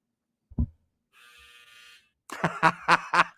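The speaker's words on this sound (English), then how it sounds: "That was my dryer, ladies and gentlemen." A clothes dryer's end-of-cycle buzzer sounds once as a steady, even buzz lasting about a second. A brief thump comes before it, and a person starts talking right after it.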